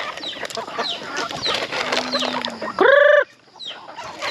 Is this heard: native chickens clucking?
yes